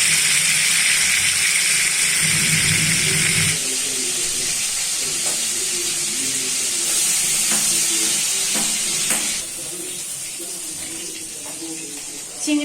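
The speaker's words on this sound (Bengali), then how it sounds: "চিংড়ি মাছ খুব কম ভাজবে, ফ্লেভারটা ভালো আসবে। বেশি ভাজলে শক্ত হয়ে যাবে চিংড়ি মাছ।" Prawns frying in hot oil in a pan, a continuous sizzle and hiss that drops slightly partway through, with faint stirring clinks and a little quiet talk underneath.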